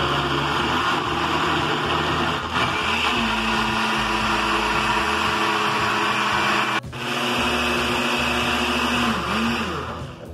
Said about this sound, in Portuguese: Deixa eu fechar aqui o liquidificador. E nós vamos bater os nossos ingredientes.